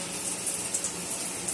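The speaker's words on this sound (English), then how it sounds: "As you can see, that's the electric shower, and this is the water pressure you get with hot water." Hot water runs from an electric shower in a UK home at weak pressure, a steady, even hiss of flowing water throughout.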